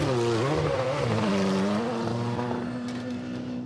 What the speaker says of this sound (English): Car fires up.